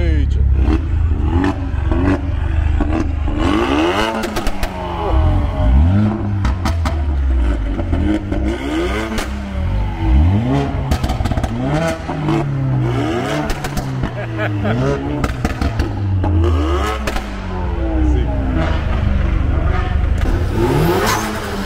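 Over a hundred Mercedes-AMG cars at a car meet rev their engines at full throttle together, giving repeated loud roaring swells that overlap one another, with voices talking under the noise.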